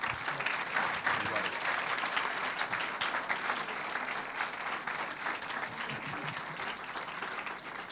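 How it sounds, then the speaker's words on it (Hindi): Sustained audience applause from a crowd at a live Urdu poetry event, dense steady clapping that fills the whole stretch and tapers slightly toward the end. "तालियां कुछ कम लग रही हैं।"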